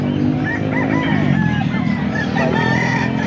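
A Tek 45 gamefowl rooster crows loudly and close by in Pampanga, a long drawn-out call that fills the whole moment, with other fowl clucking faintly behind it.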